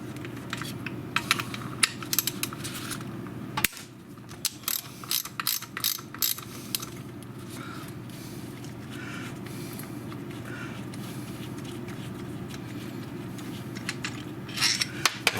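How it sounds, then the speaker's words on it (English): Clamps on the valve body of a 2006 Mercedes E350 (W211) are loosened with a T40 driver, giving repeated sharp ratcheting clicks and small metallic taps close up, with brief pauses between bursts. "We'll go ahead and loosen the clamp and free up these solenoids."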